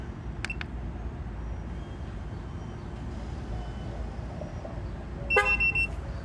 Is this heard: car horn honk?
yes